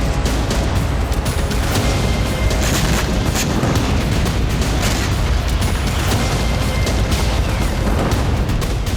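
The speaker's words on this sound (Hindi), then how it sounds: "हवा में मिसाइल को टारगेट किया गया, वो नीचे आई और जोरदार धमाका हो गया।" A missile strike on the battlefield explodes over Crimea's power grid, heard as a dense, continuous loud rumble with rolling low booms and crackling debris that fill the whole stretch without pause.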